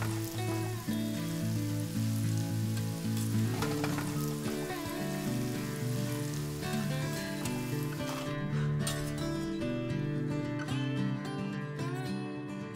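Wishi, a Cherokee delicacy, fries in a pan while being turned and stirred, a constant hissing sizzle under prominent background music.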